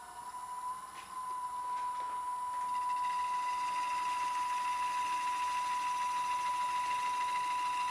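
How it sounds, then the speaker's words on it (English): A woodturning lathe spins up and runs steadily, its high-pitched whine and hum rising over the first couple of seconds and then holding constant and close throughout with no talking. "So let's turn the lathe on real quick, and we'll get a close-up of this"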